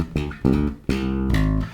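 A bass guitar fill played with three-finger picking, a quick flurry of plucked notes in several short bursts, loud and close with no talk.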